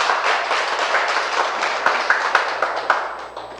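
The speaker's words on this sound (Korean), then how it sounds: "여러분 박수 한번 해주세요 여러분" A seminar audience applauds in a hall, a dense steady wash of many hands clapping that fades slightly, with a few sharper individual claps standing out near the end.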